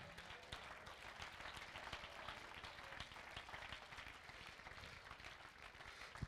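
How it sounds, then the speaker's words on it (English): A church congregation claps their hands during a sermon, a busy, continuous patter of many hands, moderately loud and steady from start to finish, with scattered sharper claps standing out. "Clap your hands to him right now."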